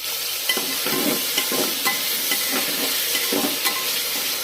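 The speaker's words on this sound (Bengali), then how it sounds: "আলুগুলো হালকা করে ভেজে নেব" Potatoes with tomato and green chilli fry in a pan under a steady sizzle, while a spoon stirs them in regular scraping strokes about every half second, close and with no voices.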